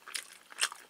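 Bites and crunchy chewing of spicy gochujang pork belly from a convenience-store ready meal, two distinct close bursts of mastication with quieter chewing between, no talk.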